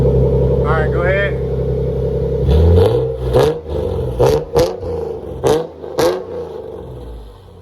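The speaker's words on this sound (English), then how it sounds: "I'm gonna put this shit back together and do a startup real quick, just so we can see what it sounded like" A 1995 Lexus SC300 engine fires up and idles close by, then is revved in several sharp bursts, with voices talking over it.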